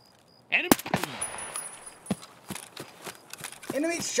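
Gunfire in a first-person shooter match on a lighthouse map: sharp shots cracking at irregular intervals over game ambience, with a voice talking now and then.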